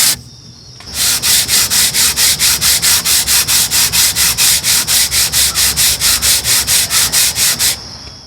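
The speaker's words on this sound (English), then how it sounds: "Okay, I've sanded this board with 150 and 180." A cupped wooden board being leveled with 150 and 180 grit sandpaper: a loud, steady run of regular back-and-forth rubbing strokes, close up, starting after a short pause and continuing evenly with no talking.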